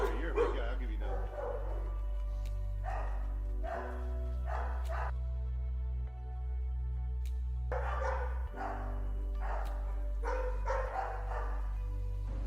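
A complaining dog lets out repeated barks and whiny yips in clustered bursts over a steady low hum, fairly close, with brief pauses between the outbursts.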